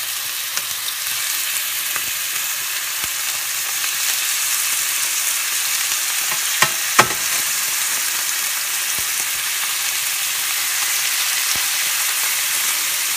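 Chicken pieces searing in a pan for a low-calorie rosemary garlic dish, giving a long, steady, loud sizzle with occasional sharp pops and a couple of louder crackles midway, no voices.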